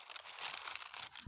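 Baking parchment rustles and crinkles continuously as it is pressed into a cast-iron skillet for bread dough, a soft, close, papery crackle with no voices.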